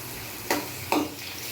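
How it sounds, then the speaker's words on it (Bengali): Bitter gourd pieces stir-fried in a pan give a quiet, steady sizzle, with two distinct scraping strokes of the spatula about half a second apart. "উচ্ছেগুলোকে দিয়ে একটু নেড়ে চেড়ে নিচ্ছি"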